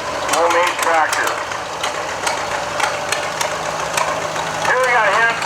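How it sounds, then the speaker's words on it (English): A homemade tractor's engine runs in a construction expo parade, a steady mid-pitched chugging with knocking rhythm heard under a voice talking nearby. "Homemade tractor."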